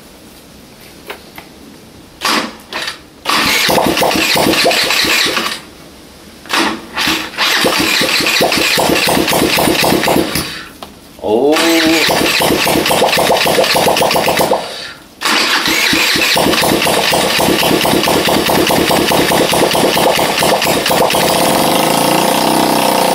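A scooter engine with carburetor fitted and no exhaust attached starts and revs, cutting out several times between loud, raw bursts of rapid popping combustion, then running steadily near the microphone; a voice briefly exclaims.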